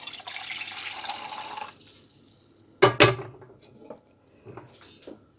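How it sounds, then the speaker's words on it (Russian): Tap water runs into a pot for stewed potatoes with chicken in a home kitchen, a steady broadband stream for under two seconds, then a few brief clinks and splashes in a quiet room. "Да, как раз 150 налила. 150 миллилитров воды."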